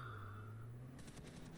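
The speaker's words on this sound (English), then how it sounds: "You guys are probably all scared of the gunfire" Automatic gunfire in Cyberpunk 2077 in Night City, a quick burst of rapid shots starting midway after a fading tonal hum, faint and distant over quiet ambience.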